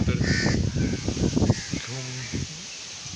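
Crows caw several times against gusty wind noise in a village, with a voice talking over the first half.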